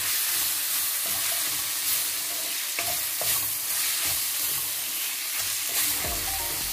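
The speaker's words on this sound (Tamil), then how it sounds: "நான் வந்து தக்காளி பழம் சேர்க்குறேன்." Tomatoes fry in a pan for chicken curry with a continuous loud sizzle, while a utensil scrapes and stirs in uneven strokes, close by and with no voices.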